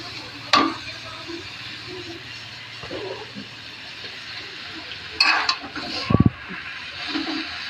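Vegetables for a vegetarian lunch being stirred and fried in a pan, with scattered scraping strokes of a utensil, brief clatters and a soft sizzle in the background.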